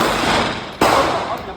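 A single loud, sharp gunshot from a CZ Shadow 2 pistol at a shooting range cracks out close by against steady range background noise.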